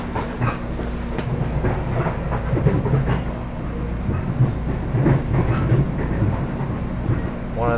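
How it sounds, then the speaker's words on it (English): A Metro-North commuter train rumbles steadily along the rails near Croton-on-Hudson, loud and close, with a continuous low roar and faint clicking throughout. "I'm on the train, the Metro North to the Croton-On-Hudson"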